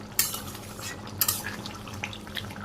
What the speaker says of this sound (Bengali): গরম মশলাটা দিয়ে দিলাম। আর এখানে যে জিরের গুঁড়ে মশলার সাথে একদম মিশিয়ে দিই তরকারির সাথে।